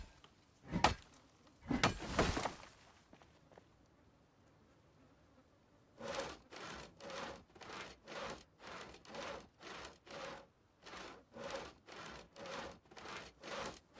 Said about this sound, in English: sawing logs, building a chair